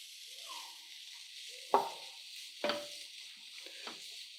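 Two finely chopped medium onions sizzle quietly in a pan over a low flame, broken by three sharp clinks of a spoon against the pan.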